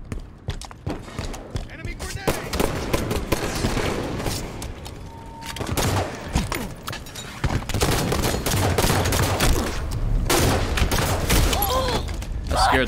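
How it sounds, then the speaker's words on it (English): Halo 5 grenade blast and rapid weapon fire in a multiplayer match, dense bursts of booms and crackling shots running throughout under loud game noise, with a player's voice briefly over it. "Enemy grenade!"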